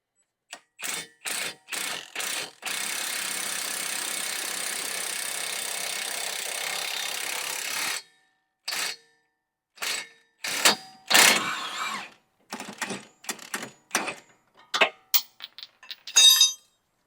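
A ratchet wrench works the axle nut on a 2006-2011 Honda Civic during a wheel bearing job: a long run of rapid, loud clicking, then a pause, then shorter bursts of ratcheting and metallic clicks close by.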